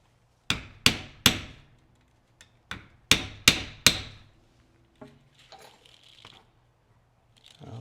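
A maul strikes leather on a handmade large-caliber cartridge belt: about seven loud, sharp blows, mostly in quick groups of three, each ringing briefly, then several lighter taps and handling noises.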